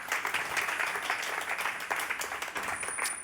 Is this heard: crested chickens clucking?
no